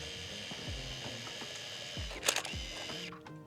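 A film camera loaded with Kodak Gold film gives a few close mechanical clicks and short whirring winds as the frame counter advances, with a quick rattling burst near the end.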